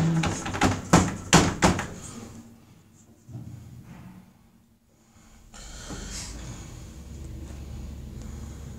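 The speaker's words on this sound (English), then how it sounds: "Doors closing." Otis 2000 lift doors at a shopping centre car park close with a quick run of loud knocks and thumps, then a soft rumble fading to quiet hum.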